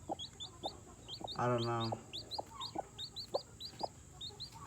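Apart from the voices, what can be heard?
chicken clucking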